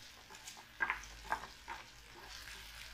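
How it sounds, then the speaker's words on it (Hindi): Mushrooms sauté in a pan over low heat for a dhaba-style mushroom and matar curry, giving a soft, quiet sizzle with a few sharper clinks and stirring scrapes, with no talking. "मशरूम डाल के अच्छी तरह इसको थोड़ा भून लूंगी।"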